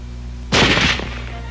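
Small-arms fire from a 1940s weapon, a sharp loud burst of rapid shots lasting about half a second, ringing out over a steady low hum with no voices.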